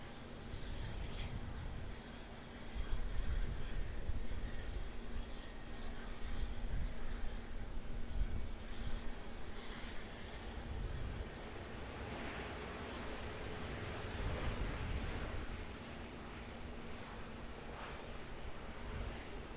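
A Boeing 777 airliner at Auckland Airport, a low rumbling engine roar that builds and lingers at a distance for many seconds, steady broadband rush with no talk.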